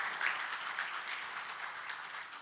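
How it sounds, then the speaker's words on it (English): A church congregation gives the worship team a round of applause, a soft, fairly distant patter of clapping that thins slightly toward the end. "let's give them a hand"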